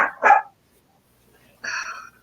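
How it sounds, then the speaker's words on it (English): Dogs barking, two quick near barks in succession followed after a short pause by a third longer bark, loud and close with no talk. "These dogs won't stop barking."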